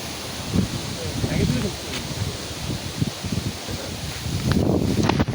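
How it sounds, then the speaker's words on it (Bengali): Strong wind in an open place buffets the microphone with rough, uneven roaring gusts that rise and fall continuously across the whole stretch. "খুব বাতাস আসলে ফাঁকা জায়গায় তো আরো"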